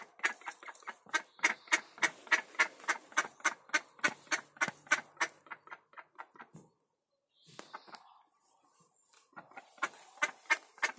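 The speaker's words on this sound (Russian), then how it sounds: "Ну, сейчас утка хочет зайти." A long run of rapid, rhythmic duck quacks close by, a brief pause, then more quacking resumes; no talking.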